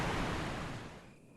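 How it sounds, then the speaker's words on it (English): A distant waterfall in the Resident Evil Remake video game, a steady broadband rush of falling water that holds level before easing off slightly toward the end, with no voices over it. "You can hear the sound of a waterfall in the distance."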